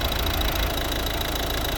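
A 2012 Volvo V50 with a 1.6 D2 diesel engine runs at idle, giving a steady, close, even rumble with no voices over it.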